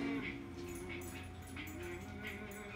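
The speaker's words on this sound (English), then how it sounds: "Teddy's our friend's dog." A dog whimpers and yips softly inside a Jayco Eagle camper, short high whines recurring every half second or so over a steady low interior hum.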